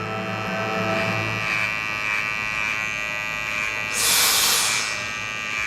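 Electric hair trimmer buzzing close up during a low taper haircut, a steady high-pitched whine with brief louder hissy bursts as the blades move through hair.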